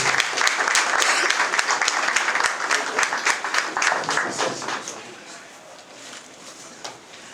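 Applause from guests at an official wedding ceremony in Pointe-Noire, a dense burst of clapping that carries loudly for several seconds, then thins and fades toward the end, with some voices mixed in.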